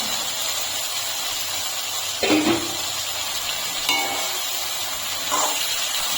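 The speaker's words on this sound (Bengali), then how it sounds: "ভালো করে কষানো হয়ে গেছে আমি এখন ফুলকপিগুলো দিয়ে দিচ্ছি" Cauliflower florets dropped into hot spiced oil with potatoes in a pan, giving a soft steady hiss of frying with a few brief louder sizzling bursts as pieces are stirred.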